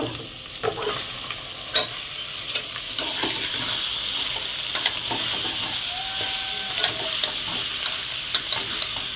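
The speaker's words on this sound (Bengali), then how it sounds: "এবারে আমি মটনগুলো ঢেলে দেব" Mutton pieces sizzling in a pressure cooker with ginger paste while being stirred, a continuous bright frying hiss broken by repeated sharp clinks and scrapes of a spoon against the metal pot.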